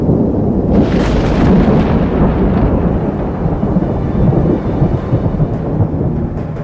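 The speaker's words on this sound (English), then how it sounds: "the Arlberg is in for a storm" A thunderstorm over the mountains of the Arlberg, with continuous loud, deep rumbling thunder and a crackling burst near the start, rolling on steadily with no voices.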